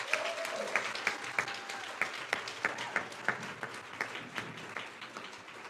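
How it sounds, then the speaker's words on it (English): Scattered audience applause at an awards ceremony, a modest crowd clapping in a loose, uneven patter with distinct individual claps standing out over several seconds, fairly distant and moderate in level. "Please give them a round of applause."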